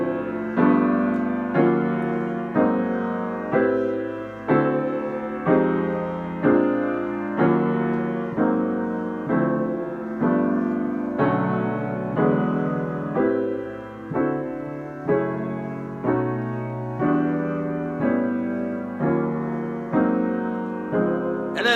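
Jazz piano plays unresolved ii-V chord progressions in steady half-note chords, each chord struck in a regular rhythm of about two per second, full and clear, with no voice over it.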